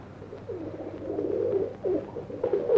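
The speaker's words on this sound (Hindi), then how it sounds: "बहुत देर से देख रहा हूँ ये कबूतर बड़ा सुस्त नजर आ रहा है" A pigeon coos softly and repeatedly, a low throaty burbling that comes in uneven bursts close by, with no talking.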